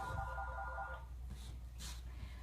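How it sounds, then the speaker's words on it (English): A telephone rings during the closing of a home Legs Up the Wall self-treatment session, a brief warbling ring heard at moderate distance in the first second over a steady low hum, followed by faint bursts. "The phone's ringing."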